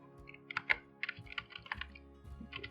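C++ code being typed on a computer keyboard, with quick irregular clacking keystrokes, close and clear, no talking.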